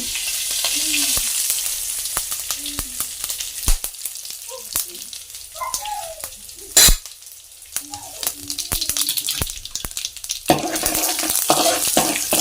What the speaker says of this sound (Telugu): అయితే తాలింపు వేసి పెట్టుకున్నాం.